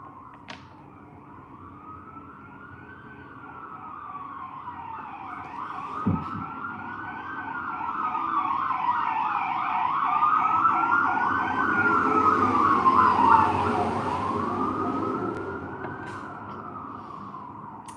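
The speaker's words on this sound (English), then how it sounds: "There is a fire truck coming right past as I'm saying this energy shift." A fire truck siren wails in rising and falling sweeps, growing louder as it passes close by over road traffic noise.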